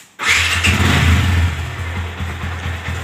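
A Yamaha Vixion motorcycle engine with a dry engine fires up abruptly and settles into a loud, steady idle close by, with a slight rev before easing off.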